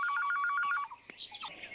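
An electronic telephone rings with a rapid trilling pattern of repeated beeps, close and clear, then stops abruptly, followed by a click and faint handling noise as it is picked up.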